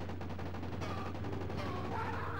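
Rapid gunshots in the Sega CD shooter Corpse Killer, a quick evenly spaced string of sharp reports over a steady low hum, faint and somewhat muffled, with no voices.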